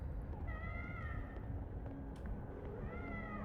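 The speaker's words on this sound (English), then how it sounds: "cat at my door" A cat meows at a door in the game Life is Strange: Double Exposure, two drawn-out rising meows a couple of seconds apart over steady background music.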